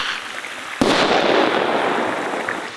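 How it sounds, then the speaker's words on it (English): A bear banger deterrent fired outdoors in Canadian wildfire wilderness gives one sudden loud blast, followed by a sustained hissing, crackling burst that lingers for about two seconds. "You're not trying to shoot the bear, you're trying to make a loud noise."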